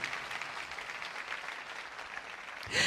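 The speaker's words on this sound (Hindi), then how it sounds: "आओ ऐसे खुदा के लिए जोरदार तालियां बजाएं।" A church congregation applauds during a sermon, giving a steady wash of clapping at moderate distance that fades slightly near the end before a brief louder sound.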